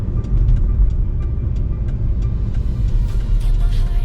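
A car engine runs steadily nearby as a low, constant rumble with a faint mid-range drone, continuous for several seconds and free of speech.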